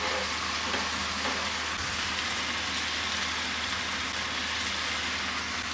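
Cluster bean (gavar) vegetable is stir-fried in an open pan, a constant hissing sizzle with faint scraping underneath, steady and unbroken throughout with no talking.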